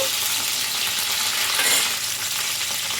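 Steamed green chillies sizzle and fry steadily in a hot pan as they are stirred, a continuous close hiss with faint scraping of the spoon.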